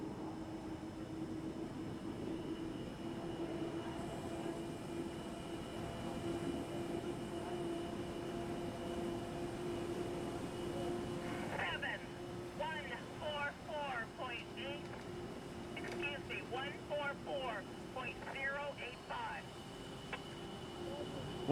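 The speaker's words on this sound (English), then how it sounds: "You hear the hull of the boat slapping against the water as he comes through the SeaWorld turn." A racing hydroplane hull slaps against the water as it comes through a turn during Sunday testing, a droning engine roar with a quick run of rhythmic slaps later on, under commentary.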